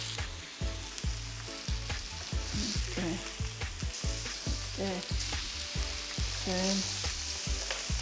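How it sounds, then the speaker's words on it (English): Steak for burritos sizzles in a hot pan, a continuous close frying hiss punctuated by regular low thumps and scrapes as the meat is moved, with one brief spoken word. "So we'll cook our steak for about 3 minutes, or I would say 2 minutes on each side"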